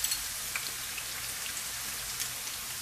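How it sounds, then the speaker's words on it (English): Onions dropped into hot oil for a Hyderabadi mutton dum biryani sizzle and crackle in a steady, dense hiss with fine popping, close and alone. "the oil is hot, so we're going to put these onions in there"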